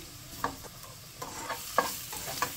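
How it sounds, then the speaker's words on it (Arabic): Spices toasting in a pan with onions, a quiet steady sizzle broken by several sharp scrapes of stirring, close and fairly soft. "رح ننزل البهارات هون خليها تتحمص عندي شوي، يعني هيك شغلة ثواني بس، وبعدين بدمجها مع البصل"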